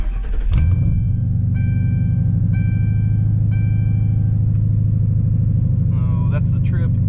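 A Ford Crown Victoria with high mileage cranks with a sharp catch, then settles into a steady, low, rumbling idle close by, with a few chimes and a voice near the end.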